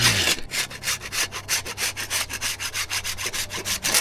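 Stone is filed with a hand rasp in about twenty quick, even back-and-forth strokes, each a close, gritty scrape in a steady rhythm.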